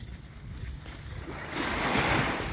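Small waves lapping and washing nearby on a Coromandel, New Zealand shore, a soft rushing hiss that swells louder toward the end, with some wind.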